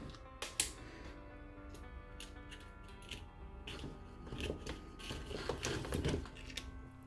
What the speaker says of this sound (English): I'm just lining up the holes and then just inserting my zip ties